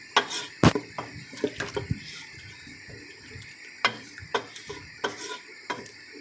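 A spoon stirring about a glass of water into fried chicken and spinach masala in a cooking pot, giving sharp irregular scraping knocks and clatters with soft sloshing and sizzling between them, close and without speech.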